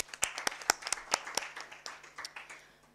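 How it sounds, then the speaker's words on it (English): A small audience after a panel session gives a short round of applause, with a few distinct, fairly faint claps that thin out and fade within three seconds. "Let us give a round of applause for our panelists."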